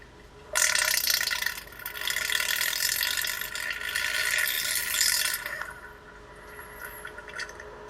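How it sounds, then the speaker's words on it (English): A wet fart, held close to a microphone, bursts in as a loud, crackling sputter, rattles on for about five seconds, then trails off into quieter gurgles. "listen to the fart afterwards"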